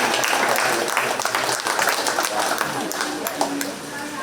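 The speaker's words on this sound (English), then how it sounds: "let's go ahead and give both these guys a nice round of applause" An audience at a county fair 4-H sheep show applauds the winners with a sustained round of clapping, heard mixed with crowd noise and a voice speaking over it.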